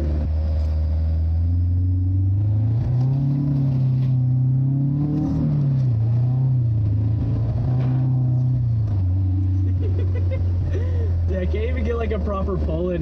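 BMW E36 driving through snow slush, a loud low engine drone that rises and falls with throttle, with slushy splashing and crackle under it toward the end.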